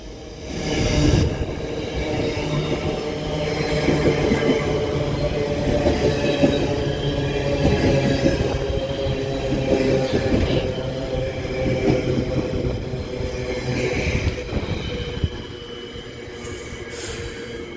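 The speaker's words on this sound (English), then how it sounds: "That Freight Class 66 shed passes through Runcorn end down south now." A Class 66 freight train passes through Runcorn on the West Coast Main Line's Liverpool branch. Its heavy, continuous rumble and clatter are laced with squealing wheels, loud and close, then ease off toward the end, with no talking.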